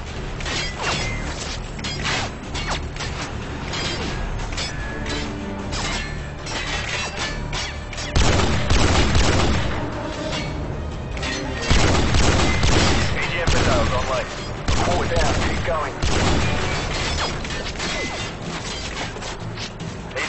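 AGM missile strikes in Call of Duty Modern Warfare 2 make repeated heavy explosions and crashing impacts mixed with rattling gunfire, a dense, loud barrage throughout with bigger blasts bursting in midway.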